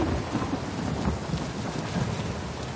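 Heavy rain and rolling thunder in the video game PUBG form a dense, loud, continuous wash with low rumbling swells throughout.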